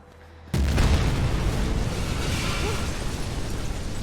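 A sudden heavy blast tears through a shopping mall in the video game Mirror's Edge Catalyst, striking loudly after a brief quiet and rolling into a dense, sustained rumble of debris and noise.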